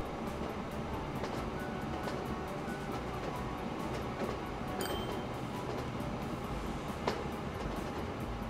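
Trains running in the simulation game Train Fever, a steady rumble of rolling wagons with faint clinks and a brief squeal, continuous and even throughout without speech.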